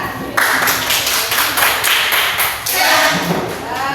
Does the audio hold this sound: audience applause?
yes